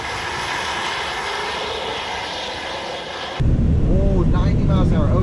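A lifted Tesla Model Y Performance accelerating hard on a race track, with a loud continuous roar of road and wind noise inside the cabin that suddenly deepens and swells partway through; no talking.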